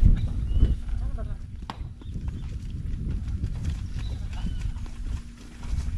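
A horse's hooves clip-clop outdoors through steady, noisy background ambience, with faint animal sounds around it.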